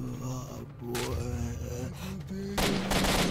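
Gunfire in the video game S.T.A.L.K.E.R. Shadow of Chernobyl, a few sharp broadband bursts in quick succession, loud and close, over in-game groans and someone talking.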